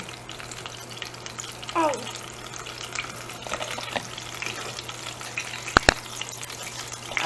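Barbecue sauce being stirred in a sizzling pan with melted butter, a steady frying hiss running throughout with a couple of sharp utensil clinks near the end; a voice briefly speaks.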